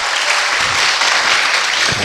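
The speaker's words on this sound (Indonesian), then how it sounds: "tepuk tangan." An audience at an Arabic grammar lesson in Banyuwangi breaks into a short burst of steady group clapping. The clapping is dense, fairly close and even, and lasts about two seconds with no talk over it.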